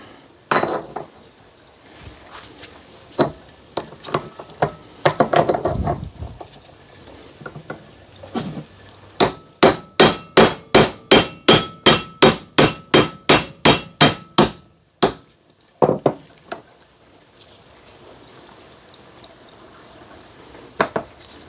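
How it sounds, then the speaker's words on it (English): A hammer strikes a socket driven against the inner race of a Honda ATV front hub bearing, scattered knocks and then a fast, even run of about fifteen loud metallic blows with a ringing edge, alone and close. "So I'm going to slide a socket down this hole and beat on the inner race of this bearing,"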